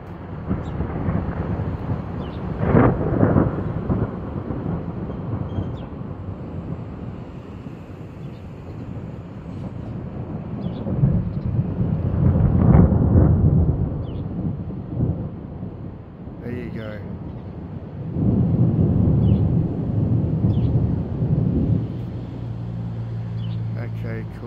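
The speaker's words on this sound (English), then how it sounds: "That was a good strike of lightning." Rolling thunder following a lightning strike during a storm over a garden, deep low rumbles swelling and fading in several waves, fairly distant, heard alone with no talking.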